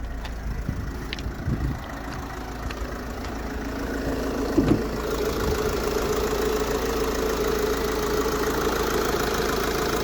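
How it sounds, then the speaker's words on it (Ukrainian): A Mercedes-Benz Vito 111 van engine idles evenly with a low, steady rumble, a brief clunk midway, and no voices. "Двигунчик працює рівно, чистенько, без нарікань."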